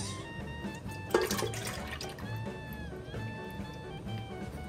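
Heavy cream poured into a mixer bowl on top of mascarpone for a cherry black forest cake, a soft liquid glugging and splashing with a burst of louder pouring noise midway.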